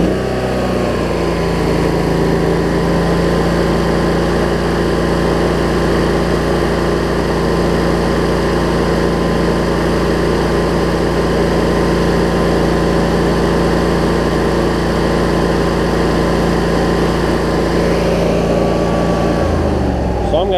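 A Cub Cadet Z Force zero-turn mower with a Toro deck runs its engine at a steady, loud drone, idling evenly nearby for about twenty seconds before the pitch shifts slightly near the end; someone talks over it.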